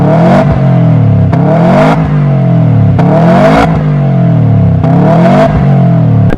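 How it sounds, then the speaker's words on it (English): A Subaru WRX with an HKS aftermarket exhaust and stage 1 tune revs hard about four times in quick succession, each rise and drop of the engine loud and close, with no talk. "you can hear from the exhaust, that's a HKS exhaust"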